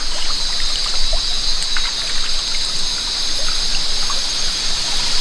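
A mountain river stream flowing down from the peak of Gunung Jerai, a steady close rushing and trickling of water that holds unbroken for the whole stretch with no voices.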